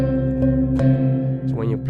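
A virtual 24-tone gong on a digital instrument, played hard with the splash setting on, gives a few struck hits whose bright, shimmering tones ring and overlap, with a later swelling accent near the end.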